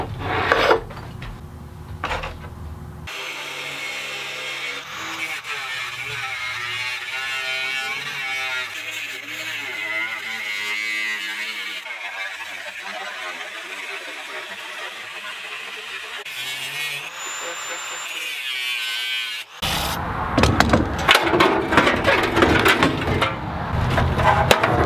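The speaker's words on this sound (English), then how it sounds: "go to town with the angle grinder and a cutoff wheel and remove a lot of the unnecessary material" An angle grinder fitted with a cutoff wheel cuts away excess sheet metal from a furnace blower housing. It produces a steady, loud rasping grind that keeps going for most of the stretch and gets harsher and more broken up toward the end.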